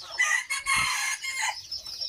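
A ring-necked pheasant gives loud, harsh crowing calls with a brief raspy cluck, close by and mostly alone.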